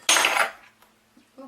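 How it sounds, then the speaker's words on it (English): A spoon clatters briefly against a bowl while mixing eggs, one bright metallic clink burst up close followed by a faint tap, alone without talk. "Just going to mix my eggs up just a little bit here so that they mix a little better"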